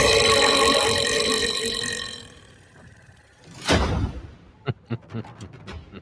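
A long, deep, rumbling ogre burp from a Total War Warhammer game trailer rolls on loudly for about two seconds and fades, then comes a sharp impact and a few short clanking hits.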